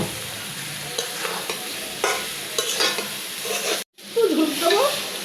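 Potato and banana pieces cooked in mustard paste sizzle and crackle in a pan while being stirred briskly with repeated scraping strokes; the sound cuts out for an instant, then the stirring resumes loudly, close and with no talking.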